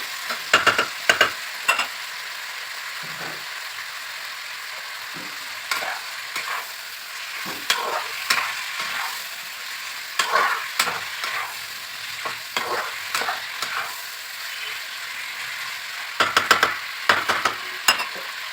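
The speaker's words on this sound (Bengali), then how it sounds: "আমার আলুটা কপিটা ভালো মতো কষা হয়ে গেছে" Potatoes and broccoli sautéed and stirred in a pan for a Bengali broccoli curry, with steady frying sizzle under repeated scraping, clattering stirring strokes in irregular bursts.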